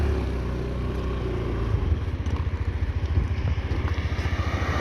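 A Honda Dio 110 scooter from Japan idles close by, with a steady low engine drone and a faint rhythmic putter, no voices over it.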